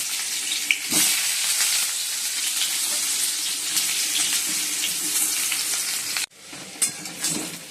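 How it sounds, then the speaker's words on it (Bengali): Steamed potato pieces fry in a pan with a loud, continuous sizzle and stirring, broken by a brief pause near the end before the crackle resumes. "আলুগুলো লাল লাল হয়ে গেছে দেখো ভাজা হয়ে গেছে"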